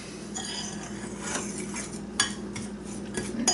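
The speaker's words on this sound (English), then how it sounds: "find my favorite mixing fork, mix this up good" A mixing fork stirs pumpkin bread batter in a bowl, making quiet, steady scraping and clinking against the sides, with a few sharper taps near the end.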